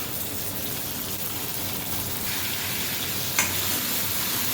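Tender seeds dropped into hot oil in a kadhai sizzle and fry with a steady, dense crackling hiss that continues throughout, close and fairly loud, with a single brief clink near the end.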